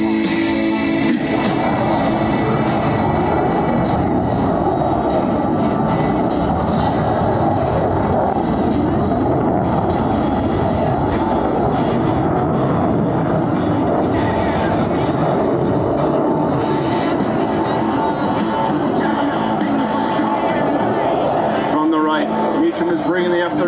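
An F-35B Lightning II jet in conventional flight at the MCAS Beaufort airshow gives off a continuous loud roaring rumble through the whole stretch, with an announcer talking over it.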